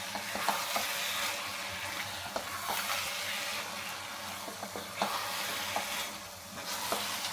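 Carrot halwa with ghee and a dry fruit garnish being stirred in a pan, a steady close sizzle broken by repeated light taps and scrapes of a spoon against the vessel.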